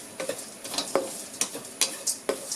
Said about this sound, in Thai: เราก็จะใส่ในส่วนของฟักทองค่ะ แล้วก็คั่วต่อนะคะ